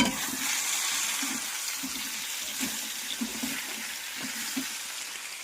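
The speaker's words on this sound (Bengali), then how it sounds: "এ সাইডে রান্না হচ্ছে কলা আলু মাছ দিয়ে" Plantain, potato and fish curry cooking in a pan, a quiet steady simmering hiss with faint, regular bubbling pops throughout, no voices.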